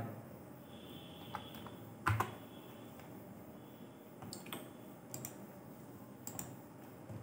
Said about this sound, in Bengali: আমরা এখানে এবার লিখবো হাই